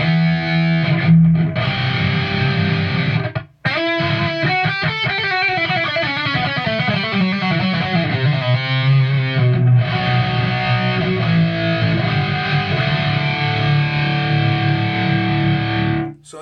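A heavily distorted electric guitar, a Fender Stratocaster with single-coil pickups, plays sustained chords and a run of quick notes, loud and thick, with one brief pause partway through.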